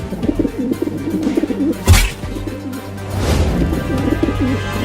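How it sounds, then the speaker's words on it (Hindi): A cartoon pigeon coos in repeated soft, warbling phrases, broken by one sharp flapping burst as it takes off, then the cooing resumes. The sound is close and moderately loud, with no speech. "उड़ गया कबूतर चिंटू, मजा आ गया।"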